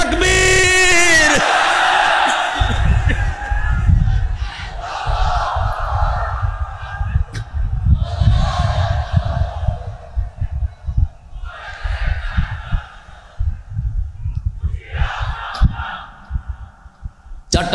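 A large outdoor crowd at a religious gathering in Chunati, Chattogram roars back a chant in loud, repeated surges, each swell of many voices rising together, with a leader's amplified call at the start.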